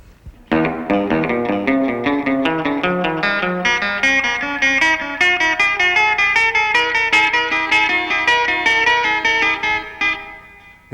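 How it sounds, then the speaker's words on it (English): Electric guitar in a hot-rod Telecaster style plays steady quarter-note lines through a very slow echo delay, each note repeating in long trailing echoes that build into a dense, continuous wash, loud and alone with no talk. "I've reset the echo for another very slow delay."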